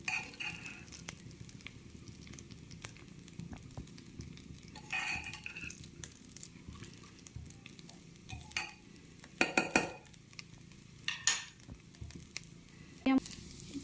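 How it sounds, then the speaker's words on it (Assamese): Rice for veg pulao is fried and stirred in a pan, giving a soft continuous sizzle broken by scattered metallic scrapes and clinks of a spoon against the cookware, fairly quiet and close. "এনেকৈ চাউলখিনিৰ লগত মই 5 মিনিটমান ভাজি ল'ম।"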